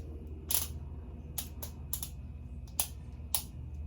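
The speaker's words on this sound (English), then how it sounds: "Actually, we're gonna torque that wheel first." A torque wrench tightens a wheel on a 2005 Mercedes C230 Kompressor W203 to 80 pound-feet, giving a handful of crisp clicks over a low steady background hum.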